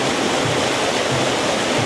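Rushing river water flows steadily past a cottage in Doshi, Yamanashi, a dense, continuous close-up roar with no voices over it.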